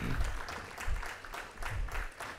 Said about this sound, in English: loud round of applause